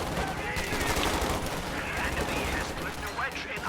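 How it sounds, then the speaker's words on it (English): Company of Heroes 2 battle between Wehrmacht and US forces with infantry exchanging fire: dense, continuous small-arms and machine-gun rattle at moderate distance, and a voice talking over it. "So we're shooting them, throwing grenades into these units here"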